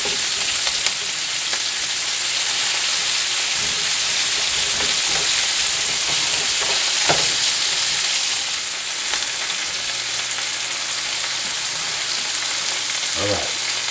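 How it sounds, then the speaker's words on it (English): Beef brisket browning in a pan with apples, a loud continuous sizzle and crackle with occasional stirring scrapes throughout. "Just pretty much browning this up a little bit. Apples in there."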